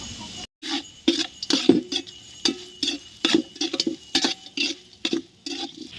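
A spoon scrapes and clinks against a pan in irregular strokes over a soft sizzle of onions frying golden for chicken biryani, with no voices.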